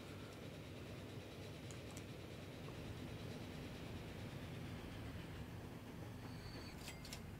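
A train arriving in the railway management game Transport Fever 2, a steady rolling rumble of wagons with faint high squeals near the end, loud and continuous with no talk.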